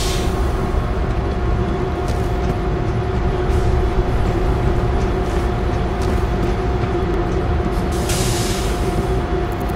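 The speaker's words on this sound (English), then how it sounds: "Get the train going!" Train moving in the World War Z New York level, a loud, constant mechanical rumble and hum with a steady tonal drone, occasional brief hissing bursts over the top.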